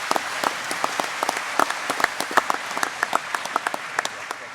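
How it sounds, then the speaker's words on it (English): Audience applause for the contestants at the FMG Young Farmer of the Year awards night, a steady wash of many hands clapping with sharper individual claps standing out, moderately loud and continuous throughout. "Round of applause for all of our contestants."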